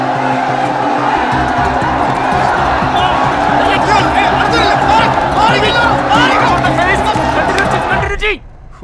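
A crowd in a Malayalam movie scene bursts into applause that turns into a brawl, with dense, continuous hubbub, shouting and scuffling noise under talk before cutting off abruptly near the end.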